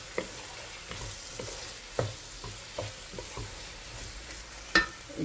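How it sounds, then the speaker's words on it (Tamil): A spoon stirs tomato masala with fennel powder in a hot pan for crab fry, producing regular soft scraping strokes roughly every half second over a faint sizzle, with a sharper knock near the end. "பெருஞ்சீரகத்தூளை சேர்த்துட்டு நல்லா அப்படியே மிக்ஸ் பண்ணி விட்டுருங்க"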